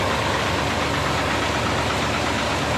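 A Hino Victor 500 concrete mixer truck's diesel engine runs at idle close by, a steady dense rumble with a faint knocking texture and no voices.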